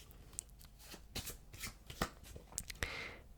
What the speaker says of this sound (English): with the rest of the deck, what we're going to do is give it a good shuffle